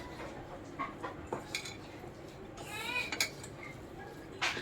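Spoon clinking and scraping in a bowl while a vegetable Manchurian mixture of grated cabbage, salt and seasonings is stirred together, giving a few soft, irregular taps and scrapes close by in a quiet kitchen.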